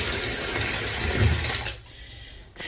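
Cold tap water runs steadily while aquarium gravel is rinsed in a container, a continuous close splashing rush that cuts off abruptly near the end.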